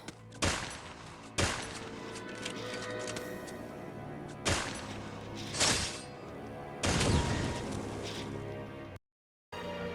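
Gunfire in a strategy war video game, with several loud separate bursts of shots over a steady rumbling battle background and no talk.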